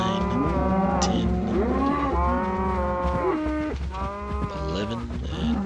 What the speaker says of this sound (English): we've got some more cattle in our herd, which is great